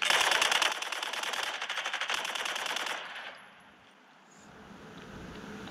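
Rapid automatic gunfire from the video game Urban Heat rattles loudly in dense bursts for about three seconds, then cuts off and leaves only a faint, low background.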